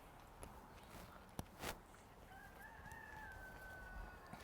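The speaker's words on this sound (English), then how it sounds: "The rooster says hello." A backyard rooster crows once, moderately distant and fairly faint, its drawn-out call rising over quiet outdoor ambience with a few soft knocks and footsteps nearby.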